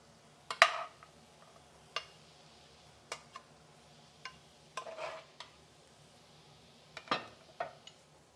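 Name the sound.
spooning beans and vegetables onto a plate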